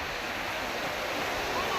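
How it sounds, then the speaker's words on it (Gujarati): Sea waves at Dwarka beach washing up the shore in a continuous broad rushing wash, close and steady, with wind buffeting the microphone. "છેક દરિયાના મોજા આટલા સુધી આવ્યા છે"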